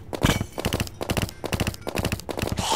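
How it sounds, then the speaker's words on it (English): Gunfire in the Terraria video game: rapid clusters of sharp electronic shots fired in quick rhythmic bursts, repeated several times without pause and no voices over them. "I'm gonna shoot you."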